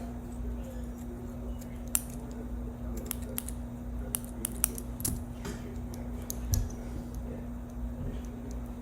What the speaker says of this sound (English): I'm just going to trim this up a little bit.